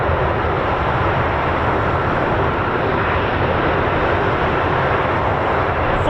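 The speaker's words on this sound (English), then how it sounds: "Squawking Hawk, and All American Girl KC-135s are here." A US Air Force KC-135 tanker aircraft roars steadily and loudly, a broad, unbroken jet rumble filling the whole stretch with no voices over it.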